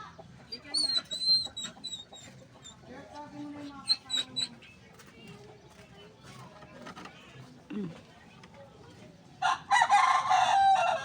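Fighting roosters cluck and crow in bursts, with sharp calls scattered across the scene, fairly close and moderately loud, and a person talking intermittently among the birds.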